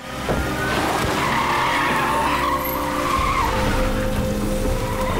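Tires squeal in a sustained, loud skid during a movie car chase, with engine roar and a rising screech that keeps going for several seconds without any talk.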